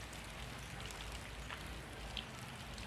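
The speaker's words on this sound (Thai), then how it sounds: "บรรยากาศดีมากวันนี้ฝนตก ฝนตกฟ้าคึมนะครับ" Steady rain falls outdoors under an overcast sky, a dense continuous hiss of drops with no pauses, moderately loud and close, with a few brighter individual splats standing out.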